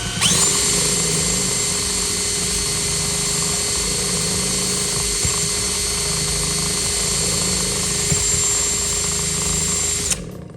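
A power drill whirs steadily for about ten seconds, spinning an MGA car generator with a constant mechanical drone and high whine before stopping abruptly.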